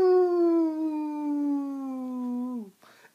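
A man imitates a wolf howl with his voice, one long sustained loud wail that slowly falls in pitch and then drops off sharply, followed by a short breathy noise.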